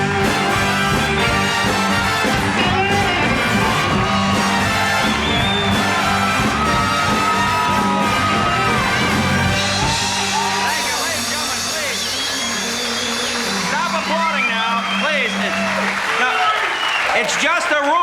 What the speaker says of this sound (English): Stop applauding, please.